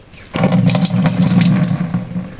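Water gushes steadily from a tap or pump outlet beside a maize field, a loud continuous splashing flow that starts after a brief pause and runs without speech.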